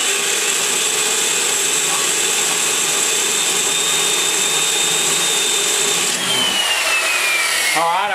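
A 30 degree stone grinding an engine valve seat on a Small Block Chevy cylinder head, a loud continuous high whine with a falling pitch near the end, then a brief stop and restart.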